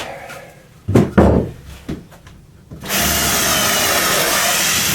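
A power drill bores holes in scrap wood for a saw stand: a few short knocks and bursts, then a loud steady whine of the drill running continuously to the end.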